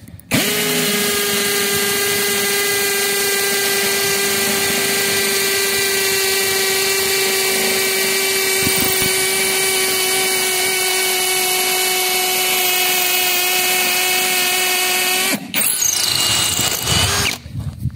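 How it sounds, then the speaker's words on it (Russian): A LUDYVI BL150 cordless drill in hammer mode drives an 8 mm bit into a factory-made concrete curb stone, a loud continuous high whine with rattling impact that runs steadily for about fifteen seconds, then stops. "Будем сверлить кусок моего бордюрного камня. Бордюр заводской, не самопальный. Сверлом на 8. Итак, сверление с ударом, сверло на 8."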